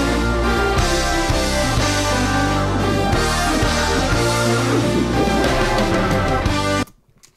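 Full-band progressive rock passage, a melodic and harmonic motif carried by dense guitars, keys, bass and drums, playing loud and continuous before cutting off abruptly near the end.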